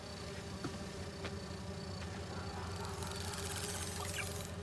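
Steady insect-like buzzing of virtual bee wolves in the video game Spider-Man 2, a continuous drone that swells slightly toward the end, heard alone without talk.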